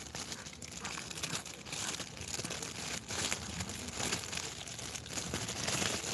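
Small plastic bag crinkling continuously as a hand pushes inside it during a science experiment, a dense crackling rustle at steady moderate loudness.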